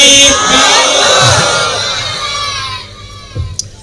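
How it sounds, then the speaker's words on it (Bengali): A large crowd at a night sermon roars the takbir chant in unison, a loud sustained swell of massed voices that fades out over a few seconds, followed by quieter murmuring. "আগে তাকবীর দেন, লিল্লাহি তাকবীর।"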